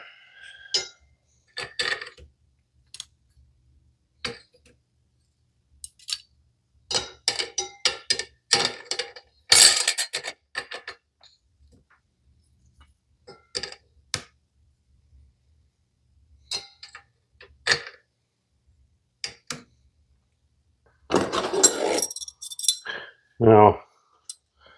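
Steel clutch plates from a 4L60E transmission, rebuilt for a 1940 Ford, clink and scrape as they are handled and stacked, in scattered bursts of sharp metallic taps separated by quiet pauses.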